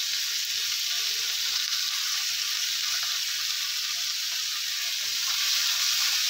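Greens and turmeric powder stirred around a hot frying pan, giving a steady, close, dense sizzle that stays even and unbroken from start to finish, with no voices.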